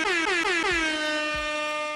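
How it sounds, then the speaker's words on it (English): A loud air horn blasts in several quick rising bursts, then holds one long sustained blare that fades slightly at the end. "I'm gonna go ahead and give you the air horn salute."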